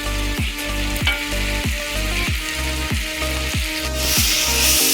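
Ginger-garlic paste fries in a hot pan for a chicken masala, giving a loud, steady sizzle broken by rhythmic scraping strokes of a spoon stirring roughly every half second.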